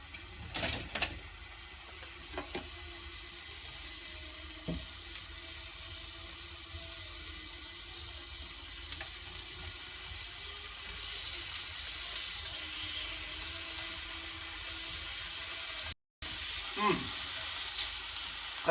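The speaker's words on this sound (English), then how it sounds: "We're getting a sizzle? Slowly." Okonomiyaki with prawns and squid fries in a pan, giving a steady close sizzle throughout with occasional sharp clicks and scrapes of a utensil, and brief quiet voices at times.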